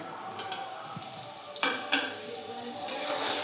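Cut lemons drop into a pan of frying carrots, green chillies and garlic for a lemon-chilli pickle, giving a soft ongoing sizzle with a couple of sharp splashy bursts as pieces land and are stirred.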